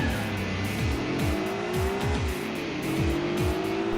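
Race cars, including a Honda NSX and Integra, launch from the start in Gran Turismo 4, engines revving up and shifting repeatedly in a loud, continuous roar with tire squeal.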